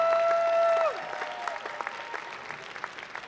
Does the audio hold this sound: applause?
yes